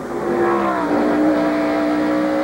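NASCAR stock cars race at Watkins Glen in 1993, a loud sustained engine drone with a steady tonal whine as cars pass close by, continuous throughout.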